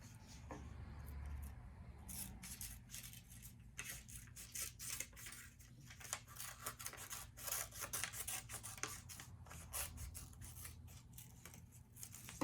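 A wind blade template is cut out section by section, with quiet, irregular scissor snips and rubbing of the material close by, repeating in uneven bursts over a low background hum.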